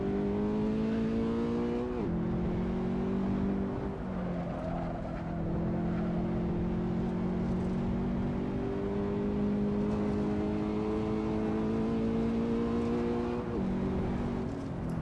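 A race car engine in a racing simulator game on the Mid-Ohio circuit drones loud and close, with a steady high rev broken by quick gear-shift drops in pitch and no talk.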